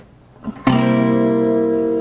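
A C dominant seventh chord is strummed on an Epiphone guitar after a soft pick noise and rings out clearly, sustaining and slowly fading over about a second and a half.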